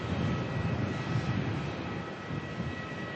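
A plane departing Melbourne airport makes a steady, broad roar of engine noise that holds evenly at a moderate distance for the whole stretch, with no voices over it.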